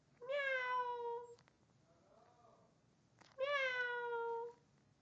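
A cat close by gives two sustained meows a couple of seconds apart, with a brief soft sound between them and quiet background otherwise.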